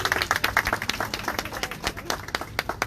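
Audience applause at a Tigrayan and Eritrean community protest rally in Houston, a dense, steady patter of many hands clapping at moderate distance for a few seconds.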